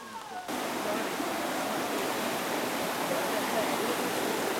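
Stream water flowing near Mangayam cave, a steady broad rush starting abruptly after a brief quiet moment, then continuing evenly and close without breaks.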